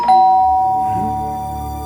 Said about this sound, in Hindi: अब डोर बेल बजेगी